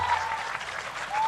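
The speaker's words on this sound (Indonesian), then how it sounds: "Tepuk tangan." Audience applause at a Quran memorization demonstration during a 2020 haflah ceremony, a short burst of dense clapping from a crowd, moderately loud and continuous with a faint tone in the background.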